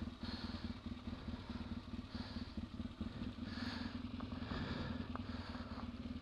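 A BMW F 650 Funduro motorcycle rides off-road over frozen puddles and bumpy ground among trees, its single engine chugging steadily at a distance with some clatter and shifting revs throughout, no talking.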